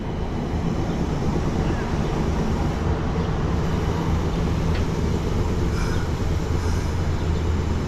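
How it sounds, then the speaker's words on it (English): A downtown Little Rock streetcar passes as a steady, loud rumble with wind noise, continuous and broad, with no distinct clacks or horn. "There goes that streetcar again."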